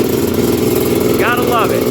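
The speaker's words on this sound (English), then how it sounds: "Love the way a two-stroke sounds." A two-stroke Honda TRX330R ATV engine runs steadily during a ride, a constant buzzing drone with a brief rising rev near the end, loud and close throughout.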